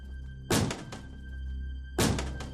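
A door bangs twice in a tense animated story scene, each a heavy, booming thud spaced about a second and a half apart over a low steady hum.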